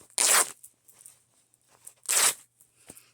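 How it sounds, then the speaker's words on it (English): Fabric being cut into six small pieces for slow stitching, heard as two short, close crisp snips or rustles with quiet handling noise between them and no talking. "I'm going to just cut that into 6 pieces."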